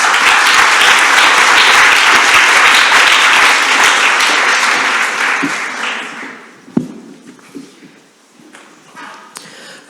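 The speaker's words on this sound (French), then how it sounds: "Madame Carole Delgac, je demande d'applaudir" A large audience gives loud, dense applause welcoming the regional president at an official opening, holding strong for several seconds before fading into scattered claps and room noise.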